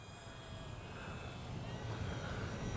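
A Kavan Pilatus PC-6 Porter RC model airplane flies on a windy day without stabilization, its engine giving a steady droning hum that grows slightly louder toward the end, heard alone at moderate distance.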